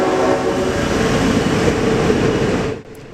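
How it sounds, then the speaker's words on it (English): A Leslie RS5T air horn on a V/Line N set passenger train in Victoria sounds one long, loud continuous blast, cutting off abruptly at the end. "you will notice the train's horn blaring in the distance."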